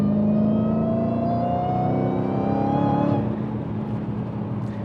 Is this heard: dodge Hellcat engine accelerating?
yes